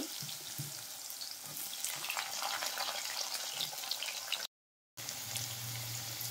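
Potato pieces fry in oil left from frying rohu fish pieces, a dense continuous sizzle close by, with a short dropout near the end; no one speaks.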